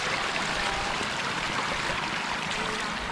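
Strong water rushes steadily into a rice field, a dense, continuous broadband gush that stays loud and unbroken throughout, with no voices over it.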